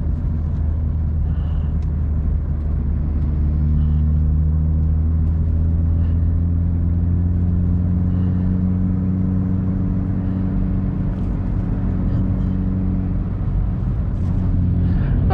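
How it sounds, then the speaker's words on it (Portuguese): Steady, loud engine rumble from a car fitted with a sport exhaust muffler, heard from inside the cabin with the windows closed, a low idling or cruising drone with sustained humming tones and no talk. "Eu vou tentar não falar muito agora pra vocês escutarem bem o ronco"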